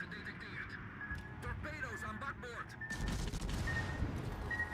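Airstrike explosions in a PC war game, heard as low booms and a rumbling burst mixed with radio chatter and other game sounds, while a player talks over them.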